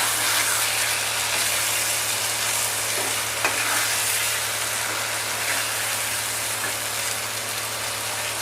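Taro and small sweet fish are stirred together in a hot kadai during frying, with a steady loud sizzle, scraping stir noises and a low hum beneath.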